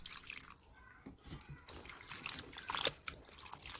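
Water trickles and splashes as chili peppers are lightly rinsed, with faint clinking and shuffling in the background; quiet and close.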